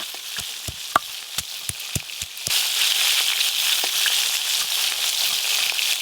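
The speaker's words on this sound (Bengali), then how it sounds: "এই মাছগুলো ভাজা হয়ে গেল।" Pieces of rohu fish fry in hot oil, first with scattered sharp crackles and spits, then a loud, steady sizzle close by.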